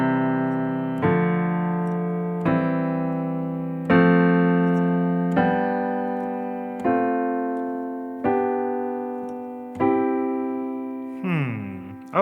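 Piano chord progression played with inverted chords, a series of sustained chords struck roughly every one and a half seconds, each ringing and decaying before the next, alone without talking.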